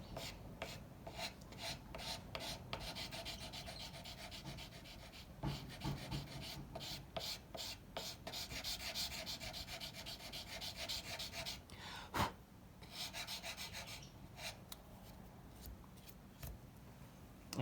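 Knife scales being hand-sanded with 400 grit sandpaper to remove filing scratches, heard as a close, rhythmic series of rasping back-and-forth strokes with brief pauses and a louder scrape near the end.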